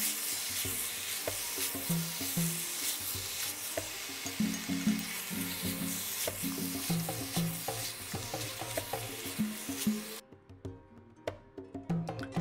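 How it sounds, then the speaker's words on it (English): Meat stirred and mixed in a hot pan for a lamb pie filling, a steady sizzle with repeated scraping stir strokes, loud and close, then quieter lone scrapes near the end. "And then I put in the meat and mix that."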